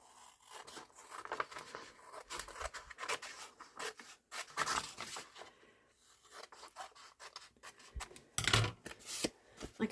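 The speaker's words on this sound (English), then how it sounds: "So just coming in with a pair of scissors." Scissors snipping through card for a junk journal, close and fairly quiet, with a series of irregular scraping cuts and rustles, some longer strokes and short snips, and no talking.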